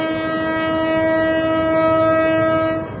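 A train on a line some 40 to 50 metres away sounds a steady tonal horn over a low rumble, loud and continuous for the whole moment before fading slightly at the end.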